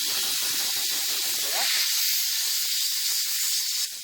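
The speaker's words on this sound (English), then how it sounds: "You can already hear the air coming out." Air hisses steadily out of a punctured tire right after a screw is pulled from the tread with pliers, a loud, continuous close-up rush that runs the whole time with no talking.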